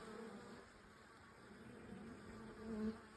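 Honey bees buzzing at a hive entrance as foragers bring in pollen on a mild day, a steady low drone from many insects with one bee swelling louder close by near the end.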